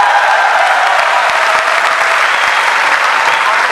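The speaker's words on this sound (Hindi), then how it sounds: "अब ताली तो बहुत अच्छी है आपकी" Loud, dense applause from an audience at a speech by the MD of RCM. It runs steadily without a break for several seconds, with no talk over it.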